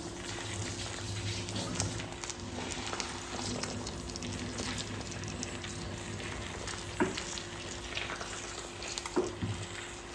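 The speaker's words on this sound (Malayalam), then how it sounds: "നമ്മുടെ ഗ്രേവിയൊക്കെ അത്യാവശ്യം നല്ല രീതിയിൽ തിളച്ച് പറ്റാറായിട്ടുണ്ട്" Murrel fish gravy with crushed pepper simmers in a pan, giving a faint, steady bubbling sizzle with a couple of soft clinks and no talking.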